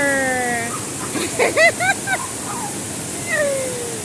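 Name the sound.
Claveria waterfall, cold water rushing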